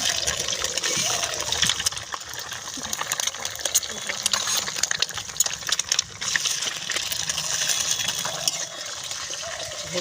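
Egg frying in a pan with green chilli for egg chow mein, a dense continuous hiss and sizzle throughout at moderate loudness.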